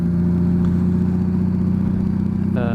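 A 2007 Honda Goldwing motorcycle engine drones steadily and evenly while riding at a slow crawl, a close, continuous mid-low hum with no voices.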